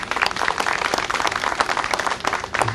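An audience claps for an honoree at a community gathering about a house demolition, a dense, steady round of many hands close by, lasting throughout with no voices.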